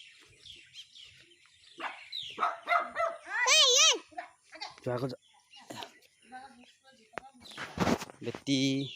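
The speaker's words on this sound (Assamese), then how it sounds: "এই কুকুৰকেইটাই একদম ভুকিছে" Several dogs bark in short bursts near a village home, mixed with people talking and children's voices around them.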